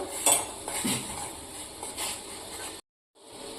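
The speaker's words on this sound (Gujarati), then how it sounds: "સરસ મિક્સ કરી દઈશું" A metal spoon clinks and scrapes against a pot while an herbal decoction is stirred, giving a few sharp clanks and then softer scraping, close and fairly loud, followed by a brief cut to silence.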